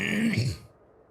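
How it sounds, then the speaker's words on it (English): One short throat clearing from a person nursing a cold, a low rough grunt lasting about half a second, close and fairly quiet, then silence. "Sorry if you keep hearing me clear my throat, chat."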